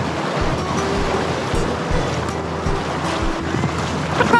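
Rushing river rapids roar steadily around a canoe during a multi-night paddling trip on a Finnish river near the eastern border, with broadband water noise, wind buffeting and a few low knocks close by.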